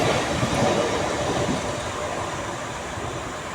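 A Mumbai local train accelerates at night with a broad, continuous rumble and rail roar that is loudest at first, then eases slightly while holding steady, with no voices.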